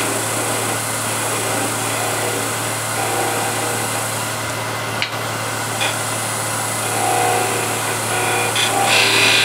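A wood lathe spins a turned coffee or tea container while a skew chisel parts it off, a steady high whine with a faint scraping texture and one brief click partway through, close by and without talking.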